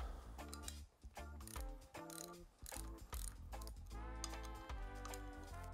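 A hand ratchet clicks steadily as bolts are backed out of a Harley-Davidson Sportster front end, close rapid pawl ticks in repeated strokes with short metallic pauses between pulls.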